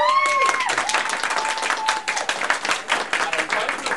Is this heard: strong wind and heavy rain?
no